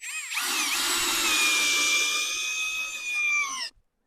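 A Vitals PAU 1870 BS SmartLine cordless drill driver in drill mode whines steadily at high speed for a few seconds, close and loud, then cuts off abruptly.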